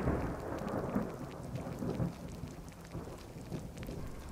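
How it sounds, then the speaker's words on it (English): Steady rain pours with rolling thunder during a storm in the Skyrim video game, a dense, continuous wash of rainfall and low rumbles with no talking. "and it's raining."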